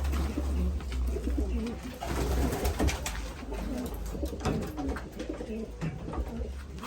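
Racing pigeons cooing inside a loft, soft low repeated coos from several birds overlapping close by, with shuffling and flutter noises mixed in throughout.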